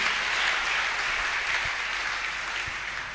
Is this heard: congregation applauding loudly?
yes